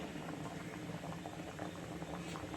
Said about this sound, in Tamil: மசாலா போட்டிருந்தோம், இப்போ கொதிக்குது.